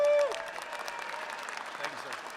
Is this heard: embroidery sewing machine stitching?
no